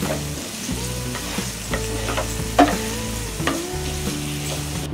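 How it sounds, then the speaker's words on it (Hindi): Instant khoya (mawa) made from milk powder being stirred continuously in a pan on the stove, with spoon scrapes and soft sizzling repeating in an uneven rhythm, close up and with no talking. "हमने इसे कंटिन्यूअस 5 मिनट स्टर करते हुए हमने इसे कुक किया है।"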